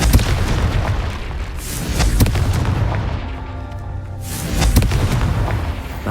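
Confringo spell blasts from the game Hogwarts Legacy sound as a series of loud, booming explosive bursts, several sharp impacts with rumbling tails, the hits coming in close succession with a brief lull before a final big blast.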